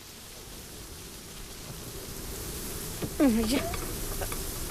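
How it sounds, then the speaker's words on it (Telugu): A horror-film night scene carries a steady wash of wind and rain throughout, swelling slightly, with a brief voice rising over it near the end. "వర్షం పడుతుందో ఏమో."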